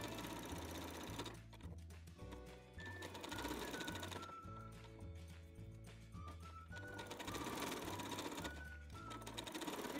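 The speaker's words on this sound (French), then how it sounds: "Nous allons commencer à coudre à peu près à 5 cm plus tôt sur la couture existante." A sewing machine stitching along an existing seam of a dress, with steady rhythmic needle bursts that start and stop between short pauses, close and clear, with no talking.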